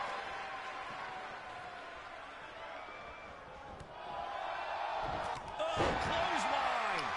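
At a women's pro wrestling event, a wrestler is driven into the ring by a German suplex, landing with a heavy slam near the end over crowd noise and ongoing speech.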